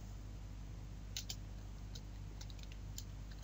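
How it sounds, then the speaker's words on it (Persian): A computer keyboard clicks out a few scattered, faint keystrokes while someone types a font size in Word 2016 over a steady low hum. "این سایز رو تایپ میکنیم"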